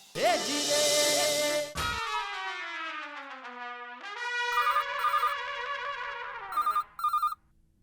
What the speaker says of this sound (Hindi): फोन नटू काका।